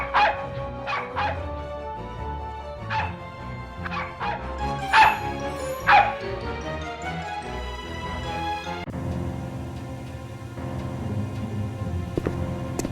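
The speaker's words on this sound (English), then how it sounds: "That dog is in here somewhere." Mr. Mingles, a dog in a Nancy Drew video game, barks and yips in a string of sharp bursts, some with whimpers between them, then a steadier stretch of game ambience follows.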